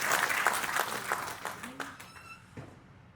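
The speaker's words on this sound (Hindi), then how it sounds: "जोर से ताली बजाइए।" Loud audience clapping at a youth program event, dense at first and then thinning into scattered claps before fading out, with a voice briefly audible near the end.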